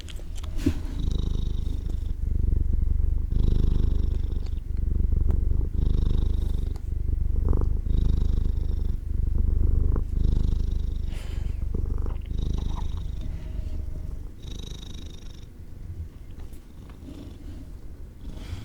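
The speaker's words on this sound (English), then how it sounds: "I'm going to take the mic up here because she is purring pretty loud." A cat purrs loudly and close up, a continuous rhythmic rumble pulsing with each breath for a long stretch.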